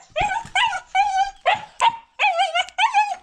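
A pet dog barks and whimpers in a run of about six loud, close yips and whining cries, with short pauses between them and no talk.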